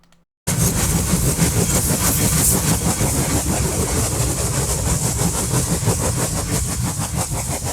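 Two animated steam engines, an oil-burning tank engine among them, rumble in on rails with a steady, loud mechanical chug and clatter that starts abruptly and holds throughout, no voices over it.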